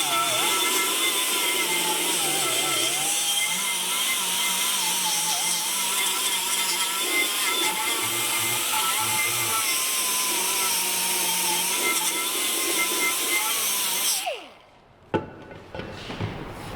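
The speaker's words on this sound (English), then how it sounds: "So we're going to take our die grinder and perform that now." Pneumatic die grinder whining loudly and steadily up close as it cleans corrosion off a brake drum surface, a high sustained tone with slight pitch wavers, then cutting off abruptly with a few clunks.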